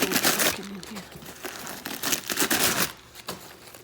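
Packing material crinkling and rustling as a Kerikit leather bag is unboxed, with loud, irregular crackly bursts that come and go and a brief lull near the end.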